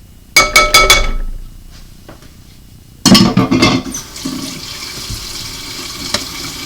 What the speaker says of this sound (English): I'm just going to rinse some of this stuff out